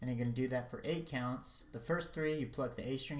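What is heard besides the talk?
None of the usual background noises is heard.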